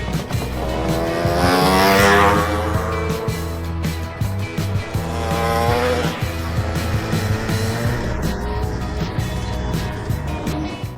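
A Polish Motocykl Wyścigowy racing motorcycle laps the Radom circuit, its engine note loud and close, rising and falling through gears as it takes the corners, with no talk.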